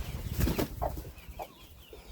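Broody hen giving a few soft clucks up close in a farmyard, short low calls spaced out over quiet background with a brief flutter early on.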